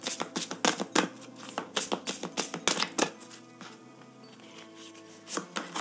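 Oracle cards are shuffled and laid down by hand, a close series of quick crisp flicks and taps in bursts, then a quieter pause before a few more snaps.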